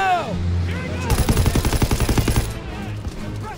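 Rapid machine gun fire in Call of Duty: WWII, a fast, loud, rhythmic burst lasting over a second amid shouted voices and battlefield noise, with scattered shots trailing afterward.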